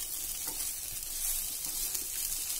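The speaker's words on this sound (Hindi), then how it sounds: "अच्छे से हिलाएंगे ताकि तो मसाला इसमें सारा मिक्स हो जाएगा" Masala rice pulao frying on a tawa, a continuous bright sizzle with soft scraping of a spatula stirring throughout, close and steady.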